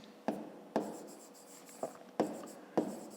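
A pen writes an answer for a fifth-grade maths exercise on paper, five or six short scratchy strokes tapping out in an uneven rhythm, close and fairly quiet, with no voices.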